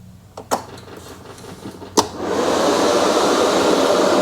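The fans of a Curtis Deluxe cab heater on a Kubota BX23S tractor switch on after two sharp clicks and keep up a steady, close, loud whooshing airflow to the end.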